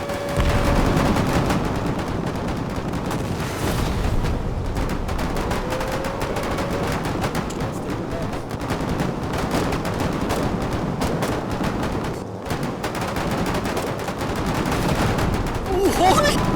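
Heavy, continuous gunfire and explosions from the war video game Foxhole, a dense unbroken barrage of shots and booms throughout, loud and close.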